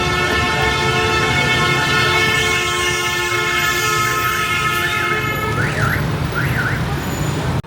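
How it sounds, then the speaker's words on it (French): Busy street traffic in Hanoi's Old Quarter on a weekday morning: a dense engine drone with a long steady horn blare over it and repeated rising-and-falling honks toward the end, loud and close. "Et il y a beaucoup de bruit et beaucoup de circulation."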